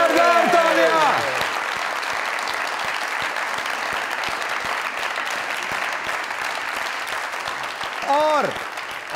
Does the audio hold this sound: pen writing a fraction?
no